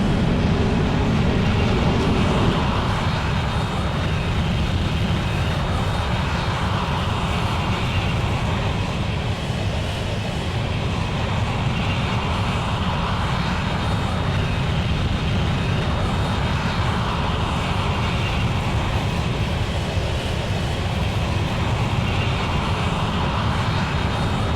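A TF-104 jet aircraft in Microsoft Flight Simulator rolls for takeoff, a loud, steady, broadband engine roar with rumbling low end that holds constant throughout, with no voices.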